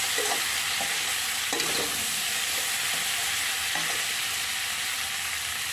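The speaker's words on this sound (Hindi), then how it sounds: "अब इसको मैं फ्राई करूँगी।" A sweet-and-sour raw mango pickle mixture with salt, made without oil, frying in a pan: a steady, fairly loud sizzling hiss runs throughout, with occasional soft scrapes and taps of stirring.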